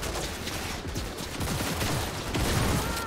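Dense, continuous gunfire and combat noise from the video game Cyberpunk 2077, a loud wash of rapid shots and mechanical clatter filling the whole stretch without pause.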